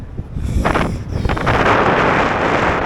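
Strong wind at a castle roars and buffets the microphone continuously, loud and rumbling, with gusts swelling in intensity; no voices are heard.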